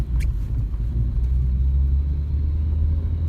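A race car engine rumbles low and steady at close range while moving slowly in reverse gear, with a faint whine on top, no voices.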